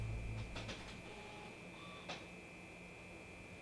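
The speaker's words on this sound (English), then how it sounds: "My printer's going." A home printer runs at low level, with a steady whirring tone, a few soft mechanical clicks and brief bursts of feeding noise.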